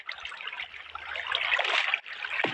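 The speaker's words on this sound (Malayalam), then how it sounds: "ഇവിടെ കല്ല് വെച്ച് ഈ വെള്ളത്തിന്റെ ജലപ്രവാഹം നിൽക്കുമോ" Flowing water in the Minecraft video game makes a steady, close trickling rush that runs without a break for a couple of seconds and dips briefly near the end.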